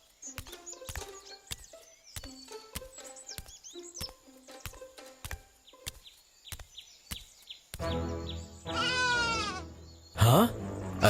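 Sheep bleating in a cartoon shepherd scene, several wavering calls near the end that rise over a busy patter of clicks and plucked notes.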